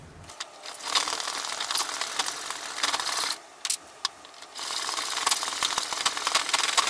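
Brass blanks for a guitar nut are being cut, a close, continuous rasping scrape of metal that pauses briefly twice before resuming.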